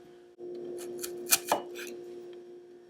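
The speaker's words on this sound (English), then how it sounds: "2 shallots, cut in half and thinly sliced." Knife slicing halved shallots thin on a cutting board, a few soft close cuts bunched in the middle over a steady background hum.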